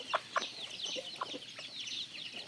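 Chickens cluck nearby in short, irregular bursts, a few sharper calls standing out over a soft background with no one speaking.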